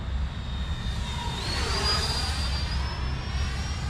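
An FMS Integral 80mm EDF model jet flies past, its high ducted-fan whine steady and loud, rising in pitch as throttle comes on through a turn, then holding over a constant low rumble of wind and ambient noise.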